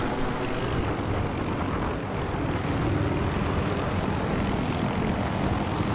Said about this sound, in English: We're gonna get another helicopter anyway.